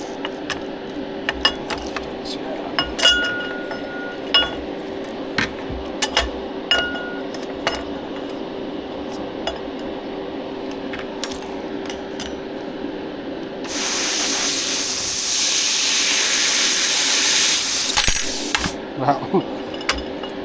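An Xlaserlabs X1 Pro laser welder cuts a piece of metal in half with a loud, steady, hissing spray of noise lasting about five seconds, preceded and followed by scattered metallic clinks and handling sounds.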